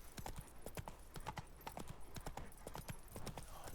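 Roach, Geralt's horse in The Witcher 3: Blood and Wine, clip-clops along at a steady trot, her hoofbeats crisp, close and evenly spaced with no talk over them.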